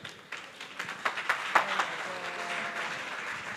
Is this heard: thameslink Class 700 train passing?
no